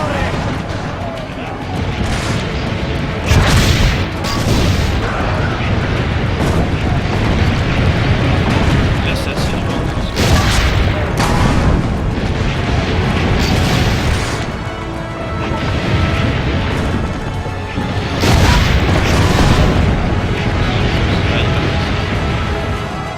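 Cannon fire in Assassin's Creed Brotherhood: heavy booming explosions recur every few seconds over a dense rumbling battle din, loud and close, with voices talking throughout.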